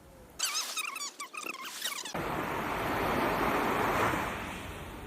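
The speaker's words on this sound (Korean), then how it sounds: "파도 소리." Ocean surf on a shore rolls in as a steady, loud wash of broadband noise that swells and fades over several seconds, following a brief burst of chirping, warbling sounds at the start.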